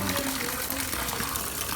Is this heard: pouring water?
yes